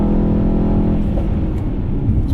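A 2018 Mercedes-AMG E63S Wagon engine pulls hard in a steady, loud, low rumble from inside the cabin, with no voices over it.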